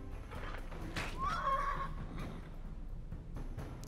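A horse whinnies in the medieval game Wartales, a single rising neigh near the middle over a steady bed of game ambience, with no talking.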